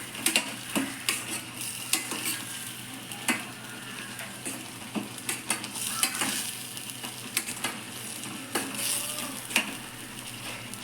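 Egg curry masala being stirred in a pan, a low steady frying hiss under regular spatula scrapes and knocks against the pan, close and moderately quiet, without speech.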